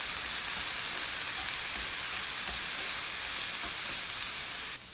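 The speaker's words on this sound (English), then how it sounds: "And let's just keep that sizzle going." Food sizzles in a hot frying pan with a loud, steady broadband hiss that holds evenly throughout, with no talking, before cutting off abruptly at the very end.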